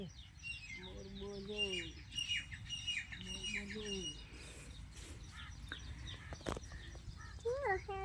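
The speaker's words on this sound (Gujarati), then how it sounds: "એ મોર બોલે" Peacock calling at a farm, loud honking squawks repeated in several bursts with other birds chirping around and a voice speaking in the background.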